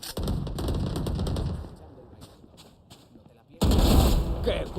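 Gunfire in the video game Valorant comes in two bursts of rapid shots, a sustained volley at the start and another loud burst near the end, with a quieter gap between them.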